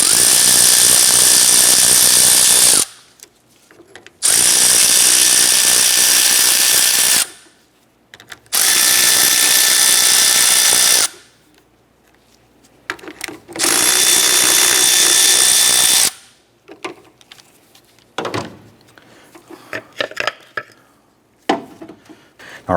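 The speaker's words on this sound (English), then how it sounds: "Using a 10mm socket, let's remove the 4 bolts on the back of the fan" A power driver with a 10mm socket removes four bolts from the back of the cooling fan on a 1993-1997 Ford Ranger, four loud sustained high-pitched whirring runs separated by pauses with small clicks and clatter of parts.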